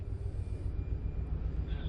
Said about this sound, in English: The helicopters will be out for another 20 minutes gathering imagery.